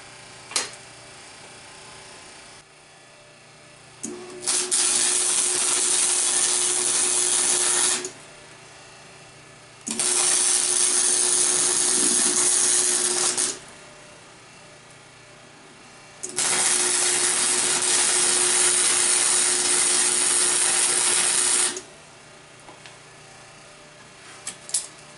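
Tack welding a small metal piece onto a bracket on a Chinese four wheeler gives three long, crackling, buzzing bursts of several seconds each, close by, separated by quieter gaps.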